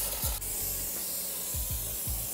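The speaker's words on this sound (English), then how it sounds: "We're just going to spray it down." Cleaner sprayed onto a vehicle transmission in a series of sharp hissing bursts, about five close spurts in an uneven rhythm, with no talk.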